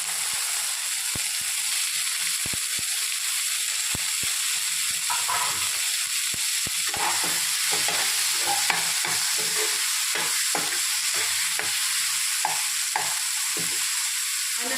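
Tomatoes stirred and frying in a pan for chicken sambar, with a steady sizzle throughout and repeated scraping clicks of a spoon, close and continuous with no talking.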